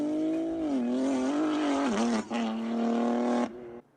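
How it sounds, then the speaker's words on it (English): A BMW M4 accelerates hard onto a highway on-ramp, its engine note climbing in a strong sustained pull through a gear change before cutting off abruptly. "we got an M4 doing a sick pull onto the on-ramp"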